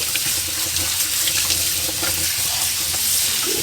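Tap water runs steadily while a blender used for sea moss is rinsed out, a continuous close splashing hiss with small clinks and gurgles.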